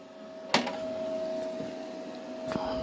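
Semi-automatic MIG wire welding, a steady buzzing electrical hum with a constant tone, broken by two sharp crackling pops at the start and end of the arc, no talking.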